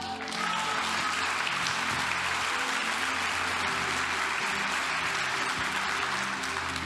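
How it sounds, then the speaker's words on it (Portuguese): A church congregation applauds in worship, dense continuous clapping from many hands filling the room at steady loudness, with sustained tones from instruments or a voice underneath. "Aplaude ao Senhor."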